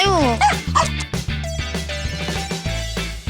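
A household dog gives a quick run of yipping barks and whimpers up close. The barks come in short, uneven bursts with brief gaps between them.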